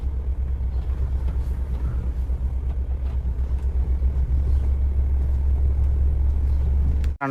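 A car creeps slowly through a congested area, its engine a steady low rumble heard from inside the cabin, ending with an abrupt clunk.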